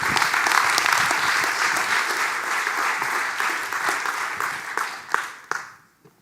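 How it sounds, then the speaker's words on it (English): Audience applause for designer Ruben Pater at a graphic design and activism talk: steady, dense clapping from a crowd that carries on for several seconds, then thins to a few last claps and fades out. "Please give a round of applause for Ruben Pater."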